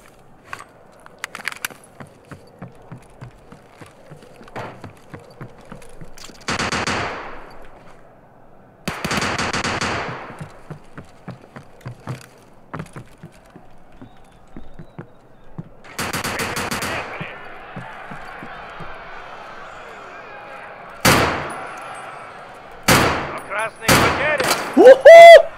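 Rapid bursts of gunfire in the shooter Escape from Tarkov: Arena crack out in clusters, with several sharp, loud shots near the end where a headshot lands. Footsteps and quieter shots run between the bursts, and a voice talks in places.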